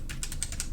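Keys on a computer keyboard are struck in a quick run of about six clicks, close and fairly quiet, with no talking.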